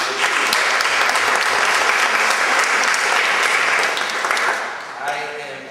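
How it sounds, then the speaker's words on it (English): A gallery reception audience breaks into loud, sustained applause for Linda and the staff, dense clapping filling the room before tapering off at the end. "I'd like to see if we can give another round of applause to Linda and our staff."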